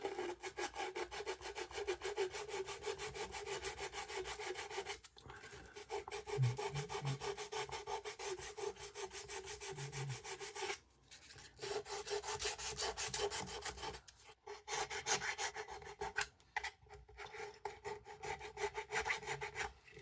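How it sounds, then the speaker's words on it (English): Steady rasping strokes of a hand file working down a plastic Aptomo Beacon+ 7443 marker light housing, continuous and close with a few brief pauses, no talk. "I'm actually using a file here to get down to some of the base plastic."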